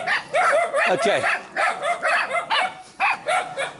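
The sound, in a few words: dogs barking in a street in Kontum, Vietnam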